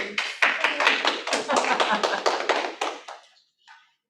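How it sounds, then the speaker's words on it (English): A small group claps in quick, steady succession at a real-estate sales and negotiation training session, the close, fairly loud handclaps lasting about three seconds before thinning out, with a brief faint sound after a pause. "You want a round of applause?"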